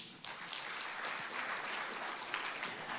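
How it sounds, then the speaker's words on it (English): Conference attendees at a regional policy gathering applaud together in a hall, a steady, fairly soft patter of many hands clapping that continues evenly for a few seconds. "A round of applause again for him"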